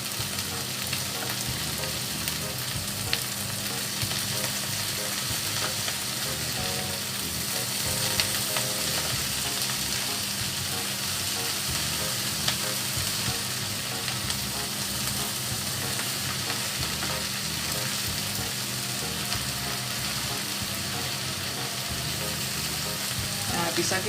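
Wilting vegetables sizzling in a frying pan while being flipped and stirred: a dense, continuous hiss that holds evenly throughout, with soft clatters from the utensil and occasional faint voice in the background.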